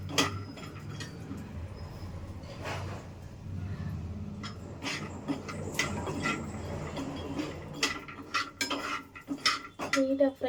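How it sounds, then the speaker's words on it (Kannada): Mixed masala and dry fruits being fried in a pan, with repeated metallic scraping and clinks of a spoon against the pan, steady and close, building to louder knocks near the end. "ಚೆನ್ನಾಗಿ ಫ್ರೈ ಮಾಡ್ಕೊಳ್ಳಿ ಎಲ್ಲ."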